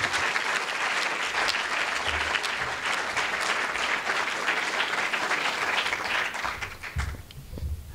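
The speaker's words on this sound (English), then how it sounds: "I want a big round of applause" An awards audience applauds steadily and densely for several seconds, then the clapping thins out and tails off at the end.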